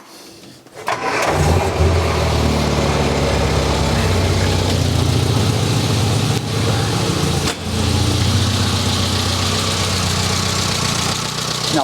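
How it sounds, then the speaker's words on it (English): A classic Mini engine with no choke on its carburetor cranks briefly, catches, then settles into a loud, steady, smooth idle that runs close by for the rest of the time with no talk. "Now that started up real nice, and it's running very smooth"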